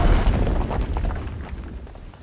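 Heavy rumbling explosions in the World War II online shooter Enlisted, a deep booming wash that slowly fades over a couple of seconds, loud with no speech.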